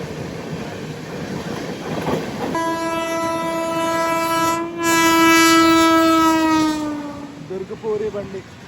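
The Durg to Puri express train passes close by near Bhubaneswar, its rumble building into a long, loud, sustained horn blast. Wheel clatter follows as the horn fades.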